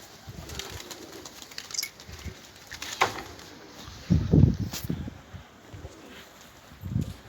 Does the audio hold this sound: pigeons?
yes